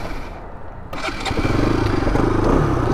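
An RS200 motorcycle engine catches and settles into a loud, steady, throbbing idle close by, its low rhythmic pulse filling the space.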